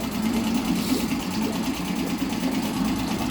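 A small Mariner 3.5 outboard engine idles with a steady, even putter, close and moderately loud throughout.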